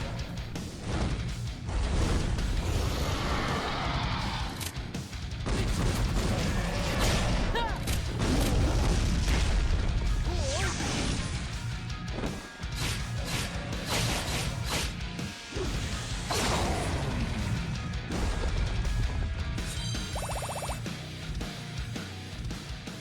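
The cannon-wielding Grenadier class in Draconia Saga unleashes a dense, unbroken barrage of booming blasts, crashes and whooshing impacts, loud and close, with game music layered underneath.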